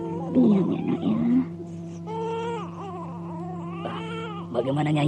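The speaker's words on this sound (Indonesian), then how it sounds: "Kenapa bayi itu tambah keras nangisnya?" A baby wails loudly and continuously in short sobbing bursts with rising and falling pitch, close by, and there are a few breaks between the cries.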